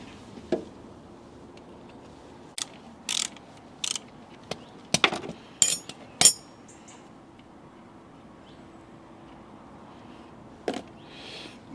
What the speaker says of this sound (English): it's a 21 mil socket on that. We'll release that and then we'll get some oil out.